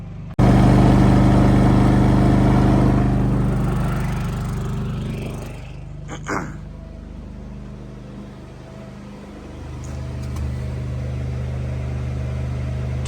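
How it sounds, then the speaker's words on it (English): A generator running beside an EG4 Chargeverter install, a steady loud engine drone and hum that eases slightly as the listener moves, with a brief clatter partway through and no talk. "Generator's running. You can probably already hear it"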